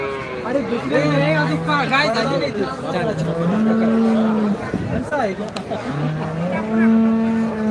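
Cattle lowing repeatedly, long sustained moos close by, amid a busy crowd with people talking throughout, at the Loni cow market in Maharashtra.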